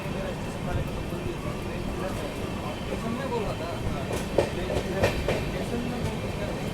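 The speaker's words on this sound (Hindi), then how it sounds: "यहाँ पर अभी अपनी राजधानी एक्सप्रेस पहुँच रही है आसनसोल जंक्शन रेलवे स्टेशन पर" The Sealdah–New Delhi Rajdhani Express rolls into Asansol Junction with a continuous rumble and rhythmic clacking of wheels over rail joints, with a few louder metallic clanks partway through.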